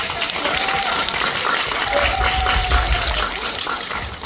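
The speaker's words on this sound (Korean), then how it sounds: "우리 이명세 감독님께 뜨거운 박수 한번" Audience at a film screening Q&A for The Killers applauds director Lee Myung-se, a steady, dense wash of clapping from a crowd filling the whole stretch at even loudness, with faint voices beneath.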